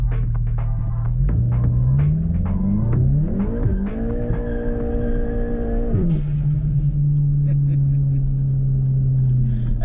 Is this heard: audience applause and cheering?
no